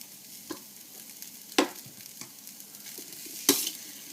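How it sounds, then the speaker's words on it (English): Turkey stuffing with salty, creamy, herby flavours and cranberry jelly being mixed around a bowl, heard as a few soft scrapes and light stirring clicks against a faint background, with no talk. "Give it a mix all around."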